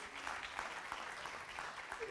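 Applause from an audience for round-table speakers at a French talk on invisible jungles and the Bougainville mission, a faint, even patter of clapping heard from a distance, with voices mixed in.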